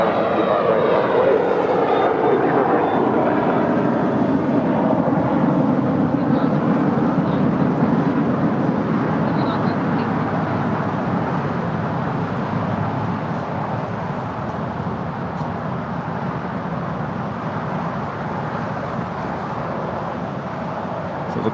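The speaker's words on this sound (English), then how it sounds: "Looks like the Dreamliner making a left-hand turn" A Boeing 787 Dreamliner taxis and turns left at LAX, its engines giving a loud, sustained roar with a whining tone that slowly eases in pitch as it rolls past nearby.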